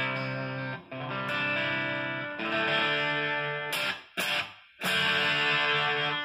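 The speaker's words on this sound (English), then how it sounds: "you hear me shaking my chord? Listen. It's too distorted." A heavily distorted electric guitar chord through a PettyJohn Iron Overdrive pedal rings out fuzzy and saturated, with a few brief cuts as it's struck again and sustained.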